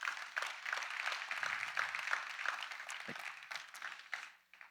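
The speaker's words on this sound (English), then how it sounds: "Give yourself a round of applause." A large corporate audience applauds steadily for several seconds, a dense wash of many hands clapping that swells briefly and then tapers off toward the end.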